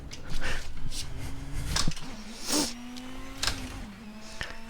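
Video game car driven around the Nordschleife, engine tone rising and falling through gear shifts with a couple of sharp bursts, close and continuous; no talking.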